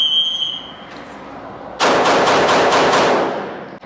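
Pistol gunfire during a Bill Drill at a gun club range: a loud, rapid string of about six shots fired in quick, even succession after a quiet stretch, with no talking.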